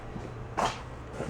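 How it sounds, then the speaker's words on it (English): A door is opened in a moped repair workshop, giving a single short, soft burst of sound against a quiet background. "Let me open the door."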